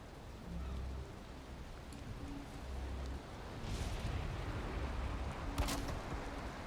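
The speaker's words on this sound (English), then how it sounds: "Uh-oh, it's raining." Rain falls steadily in the Valheim game world, a soft, even hiss with faint low rumbles and occasional sharper drops.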